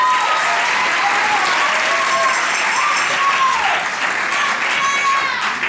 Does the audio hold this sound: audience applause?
yes